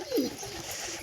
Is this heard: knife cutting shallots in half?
no